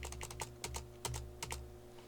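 Several quick key presses on a computer keyboard, irregular clicks in small clusters with short pauses, close and fairly quiet against a steady low hum, no talking.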